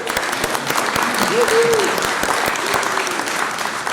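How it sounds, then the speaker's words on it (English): Sustained applause fills a city council chamber in Bastrop, Texas, as youngsters who led the flag pledges are honored, a dense steady roar of clapping with a brief tonal whistle or squeak partway through. "Let's give these youngsters a round of applause"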